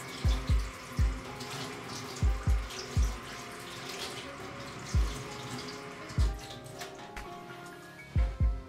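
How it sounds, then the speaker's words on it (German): A leek being washed under a running kitchen tap, water hissing steadily into the sink with repeated dull thumps and splashes as the stalk is handled. "Der muss einmal komplett gewaschen werden."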